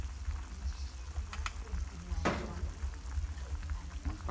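Pork rib soup broth bubbles quietly in a pot, a soft continuous simmer with occasional small pops and light stirring clinks.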